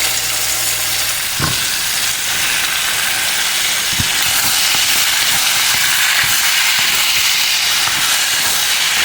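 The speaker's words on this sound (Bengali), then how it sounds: "জুকিনি অ্যান্ড ঝিঙেটাকে আমি একটু দু মিনিট ভেজে নেবো" Zucchini, ridge gourd and potato pieces frying in hot oil give off a loud, steady hiss and sizzle that runs throughout, with a few soft knocks of stirring near the start.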